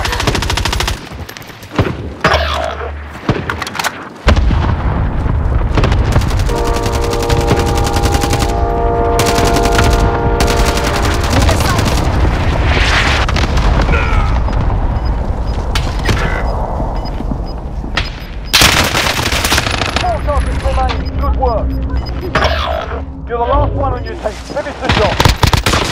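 Sustained automatic gunfire in the battle royale game Warzone, loud and dense bursts over game effects and radio callouts, with voices speaking intermittently.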